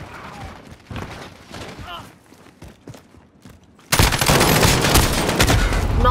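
Gunfire in a first-person shooter video game, scattered shots under game sounds and voices, then a loud dense burst of rapid fire in the last seconds.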